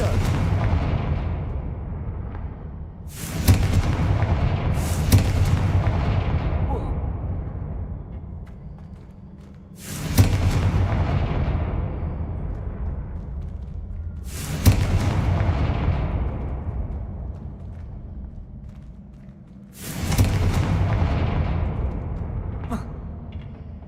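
Confringo fire spell blasts in the video game Hogwarts Legacy: five loud, booming explosions spaced a few seconds apart, each with a long rumbling decay under a low, continuous background.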